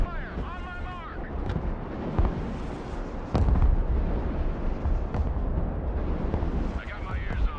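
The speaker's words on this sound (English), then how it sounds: "Mobile artillery standing by. Direct fire on my mark." Artillery firing in the war video game Broken Arrow, heavy booms and rumbling blasts over a dense battle din, with a sharp loud impact near the middle and radio-style talk throughout.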